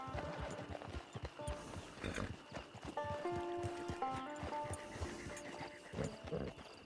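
Horse hooves clip-clop at a walk in the Red Dead Online western game, near and rhythmic, with a whinny, harness jingles and a brief bark mixed in, fairly quiet overall.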